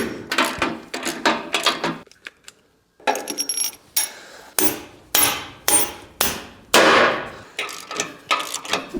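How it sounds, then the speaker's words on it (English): Anchor nuts are tightened with a torque wrench, producing loud, close ratcheting clicks in repeated bursts, interspersed with sharp metallic clanks and a brief pause, with no talk. "we'll come back around with a torque wrench and torque them all down to spec"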